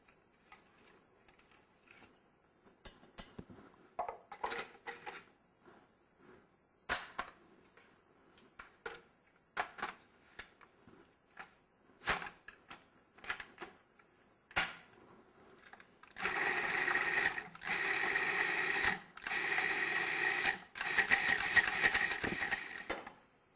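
Food processor S-blade chops vegetables for chili: scattered clicks and knocks at first, then several loud, near bursts of whirring blade pulses in quick succession.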